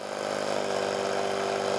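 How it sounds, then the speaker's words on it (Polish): A brushless synchronous electric motor spinning a propeller gives a loud, steady buzzing drone with a sustained tonal hum, running evenly throughout like an aircraft drive. "warkot jest potężny, ponieważ w tej chwili silnik wraz ze śmigłem funkcjonuje"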